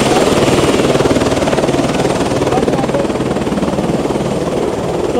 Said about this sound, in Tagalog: So, ayan yung helicopter na sinakyan namin